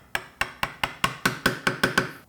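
A mallet taps a chisel into wood while cutting dovetail sockets for a box, producing about ten crisp, evenly spaced knocks that ring slightly and sound close and clear, with no voices.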